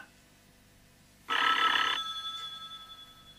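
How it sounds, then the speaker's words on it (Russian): A single telephone bell rings out loudly in a short burst, then its tone lingers and fades in a quiet room, from a 1977 film. "телефон."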